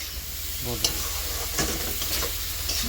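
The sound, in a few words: cumin powder frying and being stirred in a pan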